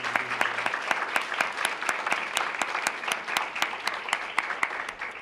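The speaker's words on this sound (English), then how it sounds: "So let's give them a round of applause as an expression of our appreciation for that." Audience at a corrections class graduation program on a college campus applauds the volunteer Honor Guard, steady sustained clapping with distinct sharp claps repeating throughout, moderately loud.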